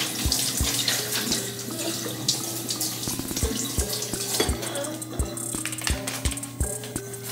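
Tap water runs steadily into a kitchen sink while hamburger meat is washed, with a constant close rush and repeated soft thumps and clatters as the meat is handled.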